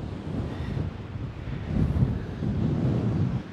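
Wind blows steadily at Coney Island beach, a low rumbling roar buffeting the microphone and building louder midway, with no voices.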